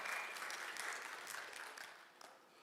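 Church congregation applauding and cheering to praise God after a Bible story, a dense wash of clapping that is loud at first and slowly fades over its short run.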